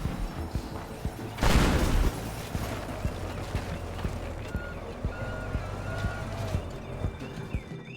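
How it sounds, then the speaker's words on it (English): A guided missile launched in the video game Teardown, a sudden loud whooshing burst about a second long, followed by softer clattering game noise while a player talks. "Okay, let's fire the missile again."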